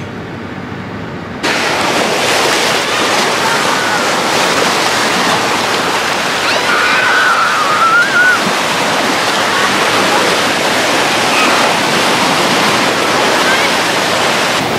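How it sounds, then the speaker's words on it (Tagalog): Loud, steady roar of ocean waves breaking against a seawall, a dense continuous wash that starts abruptly and fills the scene, with a faint voice buried beneath it. "hindi ko lang kung magkakarinigan tayo kasi ang lakas ng alon"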